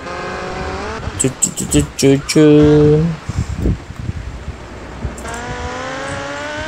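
Engine revving of a pink motorcycle ridden through the streets in Grand Theft Auto: Liberty City Stories, loud and rising in bursts with a sustained whine, mixed with game effects and Spanish talk.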